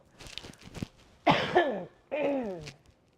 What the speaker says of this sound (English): I need to cough too.